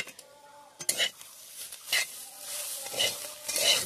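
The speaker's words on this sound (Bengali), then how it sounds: "এটা সর্ষে বাটা। এরপরে ভালো করে নেড়ে নিতে হবে," Gima greens and potatoes with mustard paste are stirred in a frying pan: a soft sizzle runs underneath while several spoon scrapes sweep through the mix at irregular intervals, close and moderately loud.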